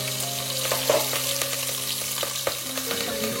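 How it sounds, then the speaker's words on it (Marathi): Garlic and curry leaves sizzle in hot tempering oil over a wood-fired stove, a steady crackling fry with scattered pops and stirring clicks, and a low hum running beneath. "आता लसूण टाकणार ना कढीपत्ता लसूण कढीपत्ता लसूण टाकणार"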